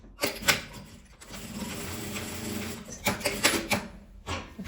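A sewing machine runs in several bursts, stitching black or white elastic along the bottom of a patchwork fabric glasses holder, with a steady mechanical whir broken by short pauses and clicks.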